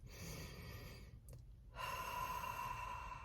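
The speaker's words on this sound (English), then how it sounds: "Deep breath one more time." A deep breath taken during a mindfulness exercise, soft airy inhale and exhale close to the microphone, with a short pause before a stronger breath.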